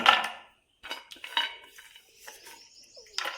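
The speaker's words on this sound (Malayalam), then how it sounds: "അണ്ടിപ്പരിപ്പ് ഇട്ട് കൊടുക്കുക" Cashew nuts go into a pan of ghee with a few quiet, separate clinks and scrapes of a spoon against the metal, spaced irregularly with near-silence between them and no talking.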